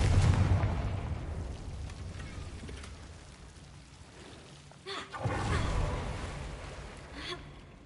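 A Confringo blasting spell explosion in Hogwarts Legacy, a booming burst that decays into a rumbling tail, followed by a second thump and rushing swell a few seconds later.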